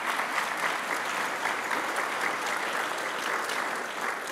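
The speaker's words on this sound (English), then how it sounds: "We should give them a round of applause" An audience at an evening race and equity event at the Kauffman Foundation breaks into continuous, full applause, a steady blend of many hands clapping with no one speaking.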